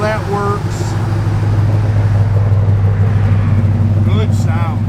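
A 1955 Chevrolet Nomad idles with a deep, steady, droning engine rumble throughout, close and loud, while people talk over it.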